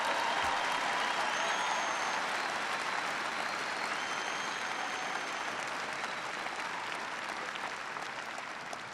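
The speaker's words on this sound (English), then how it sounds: "we can all clap about that." Audience applauding at a political speech in Omaha, a steady dense wash of clapping from a large crowd that holds for the whole stretch and eases slightly at the end.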